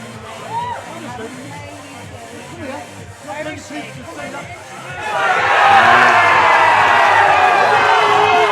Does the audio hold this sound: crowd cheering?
yes